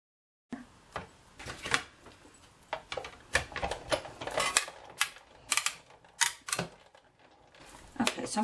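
Framelits dies cut a small window from a card panel, producing a run of sharp clicking and ratcheting mechanical bursts with short pauses between them. Nobody talks.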